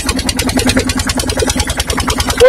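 A fishing boat engine chugs steadily and loudly at sea, with a fast, even throb throughout.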